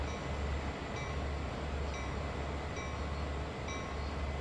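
A mile-long train rolls by in the Train Sim World game with a steady, loud low rumble. A soft rhythmic clack of wheels on rail joints comes about once a second throughout, and no one speaks.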